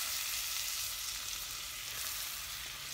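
Grated carrots hitting melted butter in a pan for carrot ladoo, giving a loud, dense, steady sizzle close by that holds evenly for a few seconds with no voices.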